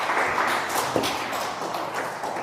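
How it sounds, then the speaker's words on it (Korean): Church congregation applauding together, a dense, steady wash of clapping from many hands filling the hall, continuous and fairly loud with no pauses. "우리 박수로 격려하겠습니다"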